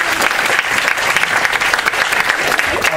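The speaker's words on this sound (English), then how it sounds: "So a warm round of applause for Professor here." A warm round of audience applause for a professor at a technology panel event: dense, loud, even clapping from a sizable crowd that fills the whole stretch without letup.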